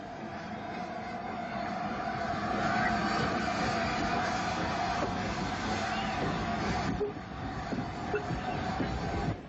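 An R1 class 0-6-0 tank locomotive drifts down toward the harbour hauling luggage vans on a boat train. The result is a steady, moderately distant rumble and rattle of wheels and wagons with faint clanks, beneath a voice talking.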